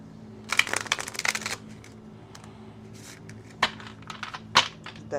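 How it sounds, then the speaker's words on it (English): Thick tarot cards being shuffled by hand, heard as several close, crisp bursts of riffling and flicking separated by quiet pauses, with soft low room hum underneath. "Deck is so hard to shuffle because it's like thick."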